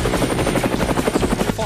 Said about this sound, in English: Fucking helicopters? Are you kidding me?